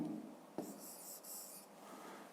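A pen or pencil writes by hand on paper during a fifth-grade maths exercise, with soft scratching strokes and a brief tap, quiet and close with no talk.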